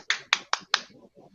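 Four sharp, close hand claps in quick succession, then soft murmuring voices afterward.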